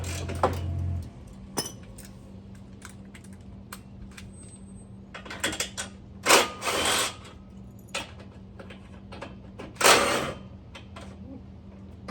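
A ratchet works loose the bumper bolts on a daily-driver car, with quick clicking runs and metallic clanks amid a few louder rustling bursts, close by, over a low steady hum and no talking.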